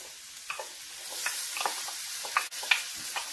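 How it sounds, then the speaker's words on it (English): Carrots going into softened onions in a frying pan, a continuous gentle sizzle broken by a few scattered light scrapes and clicks of a spatula, close and fairly quiet with no voices. "So at this point, I'll go ahead and add my carrots."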